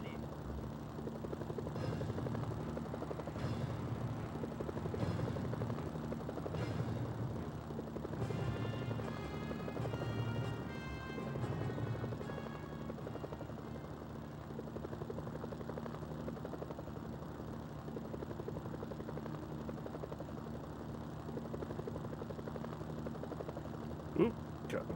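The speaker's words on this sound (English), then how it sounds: "Alright, North Korean chopper time." A North Korean helicopter in the Mercenaries video game whirs steadily throughout, its rotor thumping in a low pulsing drone at moderate volume, with faint game sounds layered on top.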